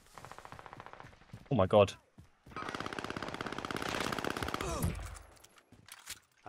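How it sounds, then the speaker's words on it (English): Rapid bursts of automatic gunfire from a Call of Duty Warzone match, a long sustained volley in the middle, with players talking over the shots. "They were shooting from below."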